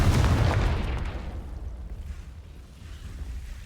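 A Confringo fire spell from the Hogwarts Legacy video game bursts in a heavy explosive boom, then rumbles and fades away over a few seconds.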